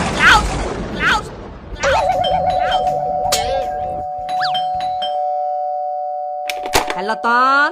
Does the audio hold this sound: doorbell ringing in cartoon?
yes